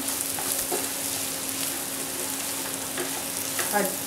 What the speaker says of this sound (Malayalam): നമുക്കൊന്ന് നന്നായി ഇതൊന്ന് ഇളക്കി കൊടുക്കണം